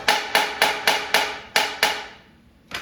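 A stuck bolt on a 1959 Impala being pulled for engine and transmission removal takes light taps: seven crisp, ringing metal hits in an even rhythm, then a pause and one more tap, with no talk.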